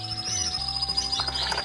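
Small birds in a home aviary chirp and tweet in quick, bright calls at moderate distance, with a faint steady background and no talk.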